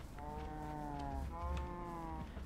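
In a Minecraft-style server game, a pair of drawn-out, droning cow moos follow one another, the second overlapping the tail of the first, set over a low rumbling background without talk.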